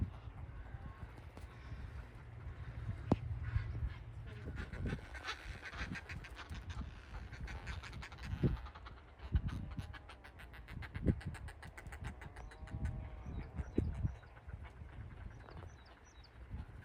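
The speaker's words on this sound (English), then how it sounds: "There's all mixture of birds nested, some puffins" Nesting seabirds, puffins among them, at a Shetland colony give scattered honking, quacking calls, some nearer and some farther, over a low rumble of wind.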